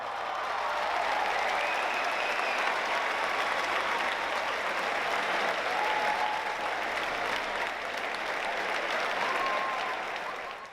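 A large audience applauds steadily at a high school DECA club event granting a Star Wars wish, a dense, even roar of clapping that holds for about ten seconds before tapering slightly at the end.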